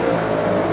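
A dirt late model race car at Carina Speedway roaring steadily close by during a feature race, its engine a loud, continuous drone with no break.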